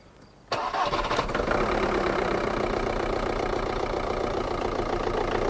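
A car engine cranks over and catches, then idles roughly and loudly, running hard enough to shake visibly, with a steady dense rumble that continues to the end.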